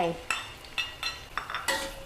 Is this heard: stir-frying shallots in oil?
yes